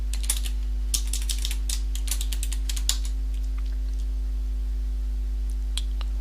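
Computer keyboard typing at a Linux terminal, a quick irregular run of crisp key clicks over a low steady electrical hum, no voices.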